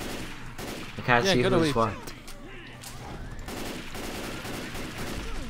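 Rapid gunfire from a Left 4 Dead 2 survivor's pistols during a holdout, bursts of shots running through the clip amid game noise, with players talking over it.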